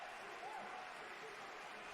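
Applause from the French delegation at a Paralympic badminton SL4 final in Tokyo, a faint, steady clapping from a distant crowd in a large arena, low in level throughout.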